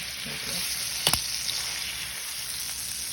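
A steak sears in a hot pan with a continuous bright sizzle, steady and close, broken by one sharp crackling burst partway through.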